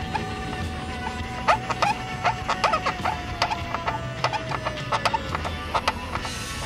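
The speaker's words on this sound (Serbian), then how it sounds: "Malo je neobično da vrata na ovakvom automobilu škripe." A squeaky door on an IDA-Opel car creaks repeatedly, rapid high-pitched metallic squeals and short chirps sounding close and loud in a rhythmic series, with no talk over it.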